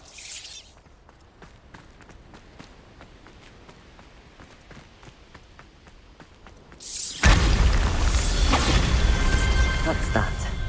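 A Bombarda spell blasts in Hogwarts Legacy: soft ticking steps and faint movement give way to a sudden loud, booming burst that keeps rumbling and crackling until the end.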